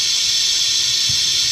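Compressed air hissing steadily into a spark plug hole of an engine, a loud, continuous close hiss with no pauses and no talk.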